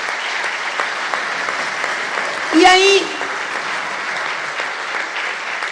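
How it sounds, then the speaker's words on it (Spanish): An audience applauds in a played-back recording, a steady wash of clapping at moderate volume under a person talking. "Esto lo dijo y estaban todos aplaudiendo."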